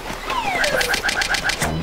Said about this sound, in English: Pesky birds.